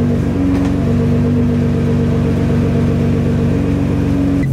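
A bagged Acura NSX drives along with a loud, steady engine drone and road roar from inside the car, holding an even pitch throughout.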